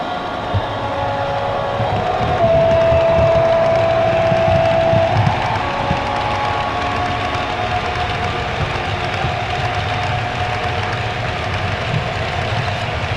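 An OO gauge model train rumbles steadily along the track, its continuous running noise holding level, with a faint whine briefly rising above it.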